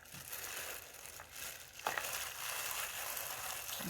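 A knife slices a cucumber through the middle while making stuffed cucumber kimchi: soft crinkling handling noises, then one crisp snapping cut, all quiet and close.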